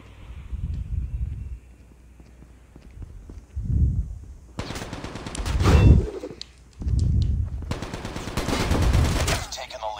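Bursts of gunfire from a Call of Duty Mobile 2v2 match, arriving in dense clusters of rapid shots between quieter low-frequency stretches, fairly loud and close, with a few game sounds mixed in.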